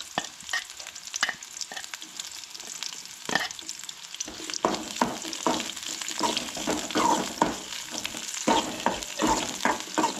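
Onion frying in oil in a pan, a steady sizzle broken by repeated sharp scraping strokes of a spatula stirring it, close and fairly loud, with no talking.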